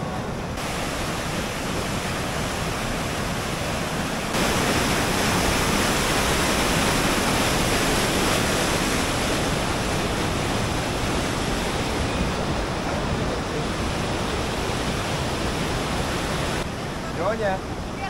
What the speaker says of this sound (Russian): Но это река.